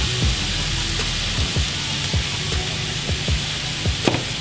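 Turkey strips fry in a pan with a constant hissing sizzle, joined by repeated light scraping and tapping as the meat is moved.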